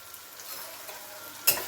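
Shim beans and prawns with turmeric sauté in a home pan with a constant gentle sizzle, ending in a single sharp scrape of a spoon against the pan.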